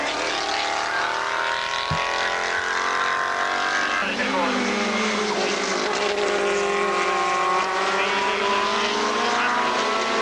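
Race cars circle a track at a motorsport meeting, among them Paul Hardman's Mini and Steve Cole's TVR, giving a continuous layered engine drone with pitch shifting as they pass, under a commentator's voice.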